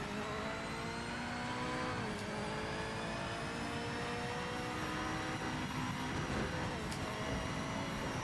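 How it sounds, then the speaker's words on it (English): Car engine in the Project Motor Racing video game, droning steadily and loudly with a continuous revving tone throughout, heard alone with no talking. "I'm just hearing engine"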